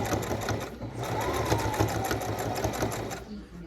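Sewing machine stitching through quilt batting on a big block blanket quilt throw, a loud steady motor hum with rapid needle chatter running throughout.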